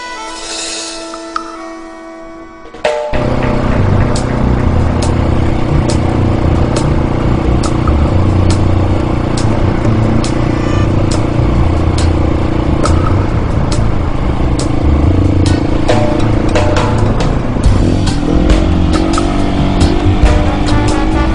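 A motorcycle engine roars loudly and steadily while held in second gear through a long wheelie, a continuous close-up drone with wind buffeting after a brief quieter start.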